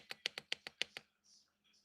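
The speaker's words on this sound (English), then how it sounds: "It's one of these keyboards." Fingers tap out a quick run of about seven crisp, clacky keystrokes on a backlit RGB mini computer keyboard, close and distinct, followed by a softer faint rustle.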